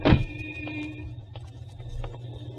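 Car door shutting as a sound effect in a 1946 radio crime drama, a single sharp thud at the start followed by a low idling motor hum with faint clicks.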